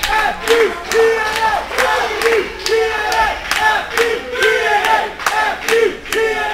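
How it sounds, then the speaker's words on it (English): Independent wrestling crowd in Chino, California chanting in unison, a loud rhythmic call repeated every second or so with cheers swelling between each beat. "Listen to the crowd."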